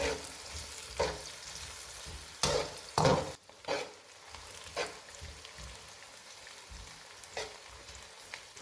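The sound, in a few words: onions frying in hot oil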